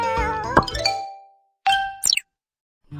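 A cartoon kitten with inflamed eyes meows in a children's animal-rescue game: one short plaintive cry, then bright chime-like dings and a closing chirp against silence.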